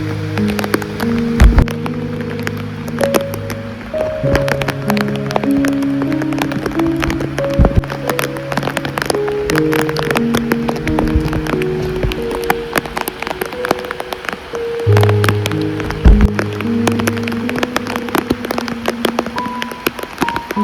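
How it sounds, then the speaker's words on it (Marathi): Steady rain falling on a rural village road during the monsoon, a dense continuous patter of drops with sharp individual hits close by, heard alone without talk. "आता पावसाचं वातावरण झालं आहे त्याच्यामुळं पूर्ण पावसाचं क्लायमेट दिसतोय"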